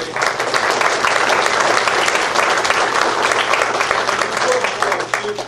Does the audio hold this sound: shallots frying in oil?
no